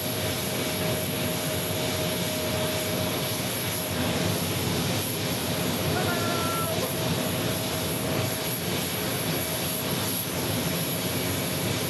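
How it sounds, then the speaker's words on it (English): A China Airlines Airbus A350-900 jet flies in to Sky Harbor Airport, its engines a steady, broad roar holding at a constant level throughout, with no talk over it. "It'll be the A350-900, Jackson. That'll be the aircraft flying in."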